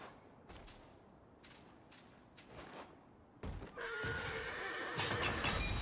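A horse in the video game Black Myth: Wukong neighs in a long, rising whinny over earlier thuds and hoof clatter, heard alone without talk.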